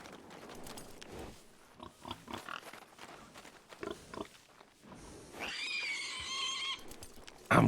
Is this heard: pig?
yes